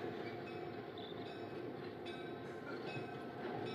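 A train rolls past a former depot building in Santa Cruz, with a steady, continuous rumble of rail wagons that stays at an even level throughout, no voices over it.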